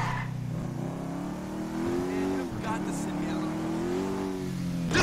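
A motorbike engine in GTA V revs steadily and loud throughout, its tone rising and falling slightly, with speech over parts of it.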